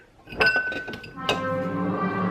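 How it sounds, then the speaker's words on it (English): A drinking glass clinks as it is lifted out of a home kitchen cabinet, with a couple of sharp ringing taps followed by a lingering glassy resonance, close and fairly loud. "there's one certain glass I like to use when I make this"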